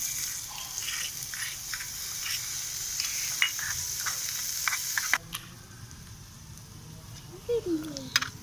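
Chopped, washed onions fry with chilli powder in a pan for a stuffing, a steady close sizzle broken by stirring scrapes, and after a sudden shift the frying turns quieter with faint background sounds.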